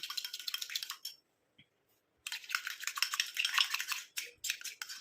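A homemade face cream is stirred in a small container, with close scraping and clicking strokes in two bursts separated by a quiet pause, with no voices.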